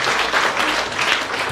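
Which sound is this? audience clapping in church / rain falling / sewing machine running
audience clapping in church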